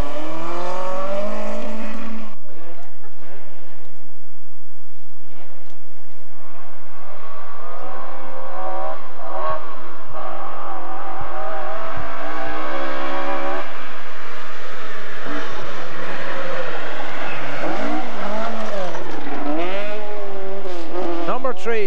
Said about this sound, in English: first car through the last stage